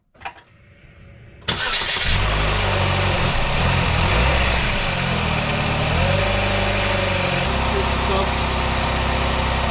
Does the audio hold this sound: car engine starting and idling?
yes